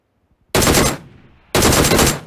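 Two loud close bursts of automatic gunfire from PUBG Mobile, each lasting about half a second, separated by a brief fading tail and near silence.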